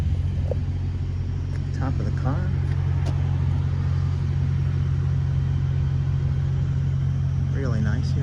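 A 1972 Pontiac Le Mans GTO Judge tribute with an aluminum intake and Weber 4-barrel carb idles smoothly up close, a steady deep rumble holding throughout while someone speaks briefly over it.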